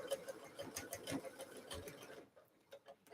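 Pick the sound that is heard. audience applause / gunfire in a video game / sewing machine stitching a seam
sewing machine stitching a seam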